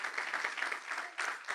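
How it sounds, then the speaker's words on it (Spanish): Church congregation applauding, a soft, even patter of many hands clapping, distant and quiet, continuing steadily with a brief dip before resuming. "Démosle un aplauso a Dios por eso."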